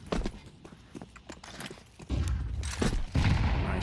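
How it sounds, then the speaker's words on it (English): A grenade going off in a professional Counter-Strike match: scattered gunfire and clattering footsteps, then a deep booming blast that rumbles on, followed by a second heavy burst near the end. "Nice grenade."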